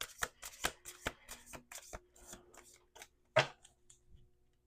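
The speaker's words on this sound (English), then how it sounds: "I think I'm doing an extra shuffle." A tarot card deck is shuffled by hand in quick, crisp riffling bursts, a dozen or so snaps in an uneven rhythm with one louder slap near the end, close and otherwise quiet.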